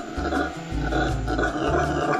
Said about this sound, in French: En Amazonie, c'est les singes hurleurs.